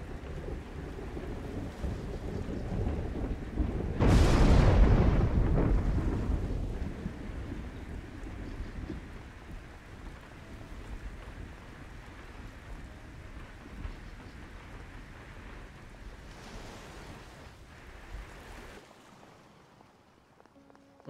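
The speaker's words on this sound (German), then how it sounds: "hier hört das Gewitter auf" Steady rain with a loud thunder crash early on that rumbles and fades, rainfall continuing beneath, during a thunderstorm in the horror video game Lucius 3.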